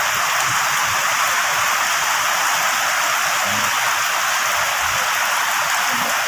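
Heavy rain pours down during flooding in Pampanga, a dense, steady, loud hiss with no breaks, and faint low rumbles underneath.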